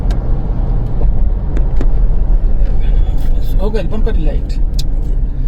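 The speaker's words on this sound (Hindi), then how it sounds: "अभी भैया कंटिन्यू गाड़ी चला ही रहे हैं" Steady engine rumble of a car being driven on a road, continuous and fairly loud throughout, with brief voices and a short horn-like tone near the end over the running motor.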